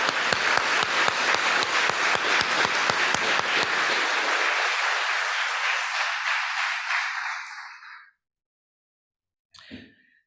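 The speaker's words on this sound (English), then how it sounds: "Could we have just one more round of applause for all the winners for tonight?" At an annual meeting, a seated audience gives a loud round of applause for the night's award winners, with sharp close claps at the start that blend into sustained clapping, then fade out around eight seconds, followed by silence and a brief rustle.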